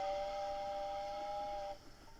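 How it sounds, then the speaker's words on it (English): A steam train coming down a mountain sounds a long, steady whistle that holds its pitch and then cuts off abruptly, leaving a faint rumble of rail travel underneath. "The train slowly chugs down the mountain."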